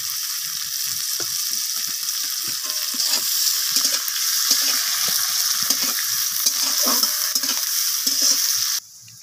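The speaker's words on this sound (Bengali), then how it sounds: "পেঁয়াজটা আমার এখানে ভাজা হয়ে গেছে" Onions fry in oil in a pan, a loud steady sizzle with occasional soft stirring scrapes, close and continuous until it cuts off at the end.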